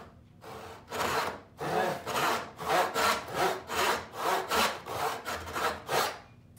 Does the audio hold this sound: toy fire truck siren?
no